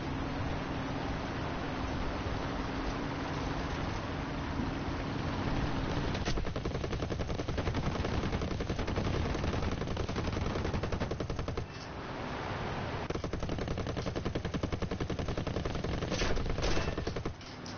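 Aircraft machine guns fire in long sustained bursts in a video game featuring American planes, a loud dense rattling stream over engine drone, broken by a short pause before firing resumes.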